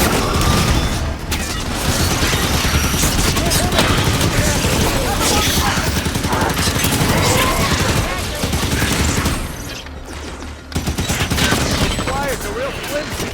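Dense gunfire from the Halo 5: Guardians video game rattles in sustained bursts of rapid automatic fire and booms throughout, loud and close, with brief lulls and game voices speaking over the action.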